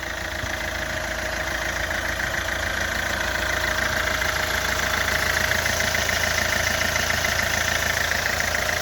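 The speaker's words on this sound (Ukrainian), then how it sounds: "І не скаже, що це дизельний двигун." A 2006 Kia Ceed 1.6 CRDi diesel engine idles steadily with a low, continuous rumble and faint ticking, close to the microphone, with no voices.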